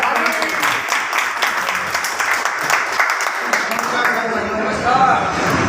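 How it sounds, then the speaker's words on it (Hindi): At a business meeting in a dhaba hotel, the audience claps to welcome the hotel owner. The applause is close, loud and steady, with a voice speaking over part of it. "एक जोरदार ताली।"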